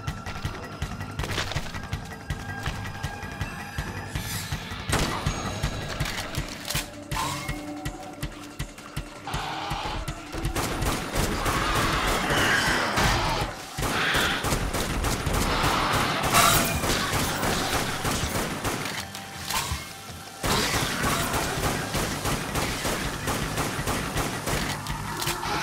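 Rifle fire in the zombie shooter Dead Nation, with rapid, dense mechanical-sounding shots that keep up almost without pause, layered with other game noise.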